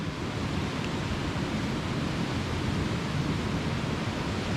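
A river swollen by floodwater on a farm rushes past, a dense, steady roar with no breaks, close and loud, rising toward a road with no voices over it.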